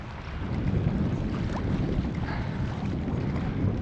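Steady, heavy easterly wind buffeting the microphone at a lake, a continuous low rumble that stays loud and unbroken throughout.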